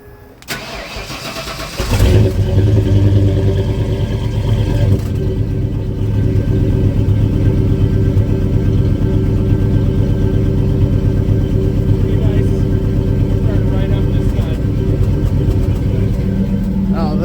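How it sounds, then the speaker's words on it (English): A car engine cold-starts beside the exhaust, cranking briefly before catching into a loud, steady rumbling idle that carries on close to the tailpipe. "Now that's what I call a nice cold start."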